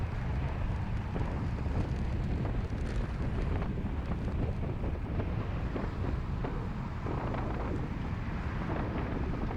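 Heavy wind buffeting a microphone on a bicycle ridden hard on flat roads during a Tour de Richmond chase: a loud, steady roaring rumble that fills the whole clip with no voices.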